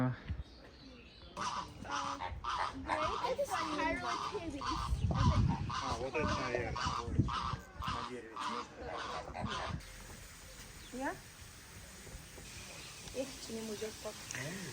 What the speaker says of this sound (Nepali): कस्तो खालको चरा यार यो